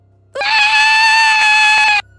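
A child screaming in pain gives a single loud, sustained, high-pitched cry lasting about a second and a half, heard alone over a faint steady hum.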